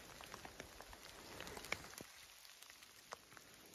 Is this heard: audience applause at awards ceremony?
no